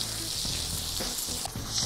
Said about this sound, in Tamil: இங்கேயும் கடுகு பொரிஞ்சிருச்சு, ஒரு 2 காஞ்ச மிளகாய் கிள்ளி சேர்த்துப்போம்